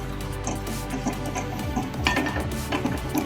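Minced chicken, about 300 grams, sautéed and stirred in a pan for stuffed masala paratha, with steady scraping and clinking of a utensil against the pan over a constant cooking bed, a little busier toward the end.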